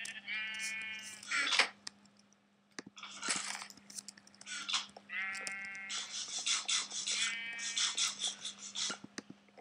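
Several wavering sheep bleats from a video game repeat close by, one after another across the stretch, over a low steady hum with light clicks.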